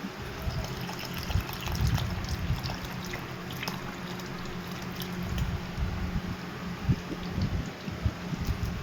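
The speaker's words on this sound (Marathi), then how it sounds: "हेच पाणी आपल्या ह्या जारमध्ये देखील आपण ओततोय." Alkaline water is poured from a glass into a jar, a soft continuous trickle and splash, quiet and close, with faint handling knocks.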